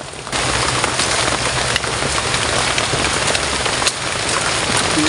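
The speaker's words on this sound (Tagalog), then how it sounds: "kasi malakas talaga yung ulan" Heavy rain pours down steadily on a surface, a loud continuous hiss with scattered sharper drops throughout.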